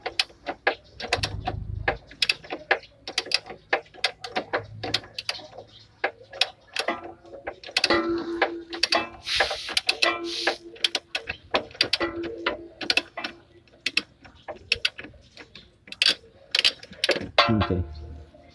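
Ratcheting clicks and metallic ticks from a wrench working the rear bumper mounting bolt loose on a Hyundai Eon, close and busy with irregular rapid bursts throughout, brief low thumps mixed in.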